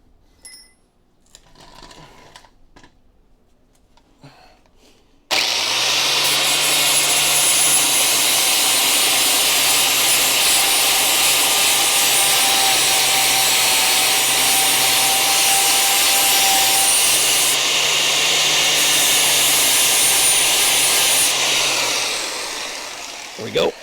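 A powered wire brush scours bare, spot-welded metal on a crew cab Charger body under restoration, a loud, steady, harsh whirring roar that runs unbroken for about eighteen seconds, following a few seconds of quiet talk and shop noise.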